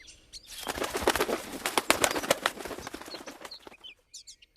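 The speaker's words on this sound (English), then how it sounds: "Then Peter flies away." A small bird, a pigeon or dove, taking off with a burst of rapid, close wing flaps lasting a few seconds, then fading into quiet with a few brief chirps.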